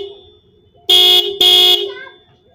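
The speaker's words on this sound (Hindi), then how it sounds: "तो गाइस अब हम आपको चेक कराते हैं दोनों हॉर्न की आवाज़।" Two loud motorcycle horn blasts honk back to back, each about a third of a second, bright and buzzy against a quiet engine hum.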